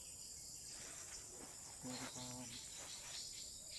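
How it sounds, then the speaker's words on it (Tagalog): Insects chirp outdoors in a continuous high, steady drone, with a faint brief tonal call in the middle and low background noise throughout. "dami mga insekto talaga dito"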